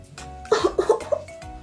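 A woman coughs a few times in a quick cluster, close and clear, with no talking around it.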